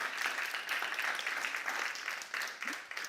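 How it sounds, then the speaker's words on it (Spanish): Crowd applause fills a church after a call to clap for God, a dense, steady wash of many hands at moderate volume, swelling and dipping slightly over about three seconds with faint voices beneath. "Vamos a dar un aplauso a Dios."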